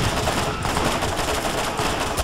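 SMG fire in the video game Borderlands, loud and continuous, a rapid unbroken stream of shots filling the whole moment with almost no talk over it.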